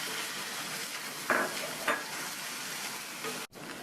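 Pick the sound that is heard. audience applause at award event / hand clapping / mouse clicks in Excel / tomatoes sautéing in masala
tomatoes sautéing in masala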